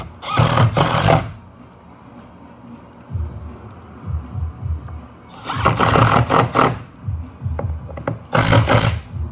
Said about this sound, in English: So what I'll do is I'll set that, and I'll pop the set screws in.